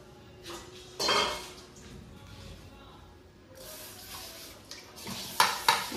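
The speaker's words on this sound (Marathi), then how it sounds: "थोडी भांडी आहेत ती घासून घेते मी." Dishes, pots and cutlery being scrubbed and washed at a home kitchen sink, with clanks of steel utensils, scraping, and running water in bursts, the clatter growing louder and sharper near the end.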